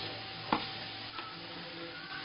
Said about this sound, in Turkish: Bir tane soğanımızı küçük küçük doğradık. Çok az zeytinyağında kavuruyoruz.